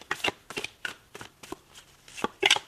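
Tarot cards being shuffled in a steady series of sharp, close riffling bursts, about nine quick flurries with short pauses between, no talking.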